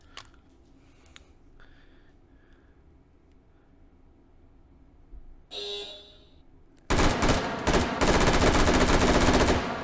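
Full-auto fire from an HK416 rifle in the H3VR virtual reality game: after quiet handling clicks and a short mechanical rattle, a loud, sustained automatic burst fills the final few seconds.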